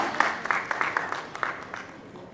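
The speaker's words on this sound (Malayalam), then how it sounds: "ഒരു വലിയ കൈയടി കൊടുത്തുകൊണ്ട് നമ്മൾക്ക് അദ്ദേഹത്തെ വേദിയിലേക്ക് സ്വാഗതം ചെയ്യാം" An audience bursts into applause to welcome actor Manikandan Achari onto the stage, a steady patter of many hands clapping at moderate distance that slowly fades out.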